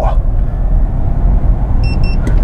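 Cabin sound of an Audi e-tron S electric car accelerating hard: a loud, deep road-and-drive rumble, with a brief series of electronic beeps near the end.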